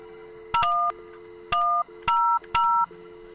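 DTMF keypad tones from a telephone being dialed in the VR game Job Simulator, with four distinct beeps in a short sequence, loud and clear over a steady background tone, with no talking.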